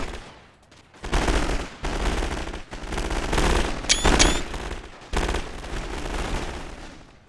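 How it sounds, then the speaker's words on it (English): Mounted infantry rifle fire in a WWI Total War battle at a Belgian town: dense, continuous crackling volleys of many rifles, loud and close, with brief lulls and a short high whistle near the middle. "my cavalry, my mounted infantry are actually firing down on their positions now as well"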